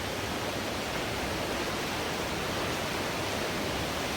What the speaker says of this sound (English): Now walking over this beautiful river